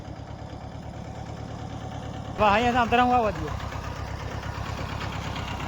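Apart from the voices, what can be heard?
tractor engine running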